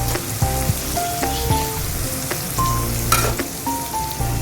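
Onions, garlic and marinated chicken fry in a hot pan, a steady crackling sizzle broken by scrapes and clinks of stirring, close and alone.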